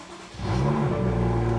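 A car engine cold-starting, a short crank that catches at once into a loud, rising rev before settling into a steady, rumbling idle close by.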